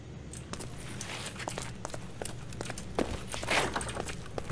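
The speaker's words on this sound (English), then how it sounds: "my own footsteps actually scared me" Rapid, steady footsteps of a player character running in a nextbot horror video game, regular close thuds over a low background rumble, with no talk.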